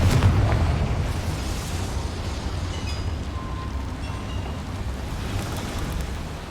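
Spell blasts from Bombarda and Confringo in the video game Hogwarts Legacy, set inside a small mine, give a loud, sustained rumbling roar that fades slowly, with no talk over it.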